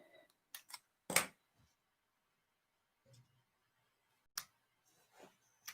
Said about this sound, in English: These scissors with the cover on them, these are basically the ones made by EK Success, the cutter bees.